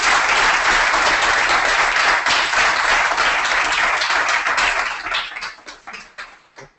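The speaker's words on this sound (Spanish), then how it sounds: "podéis aplaudirle, ¿eh?" Audience applause from a crowd at a talk, loud and sustained dense clapping that thins out and fades over the final two seconds, no voices over it.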